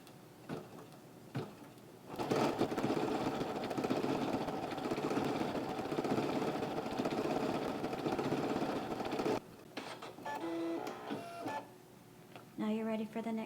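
An embroidery sewing machine stitches a zebra sketch design in a steady, dense mechanical whir that starts loudly after a couple of faint taps, runs for several seconds, then stops, followed by short tonal beeps and clicks from the machine.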